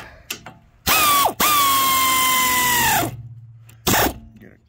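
Ratchet wrench clicking while tightening a bolt during first maintenance on a Case CX37C compact excavator, with two long whirring bursts and a brief final burst, close and loud, with no talk.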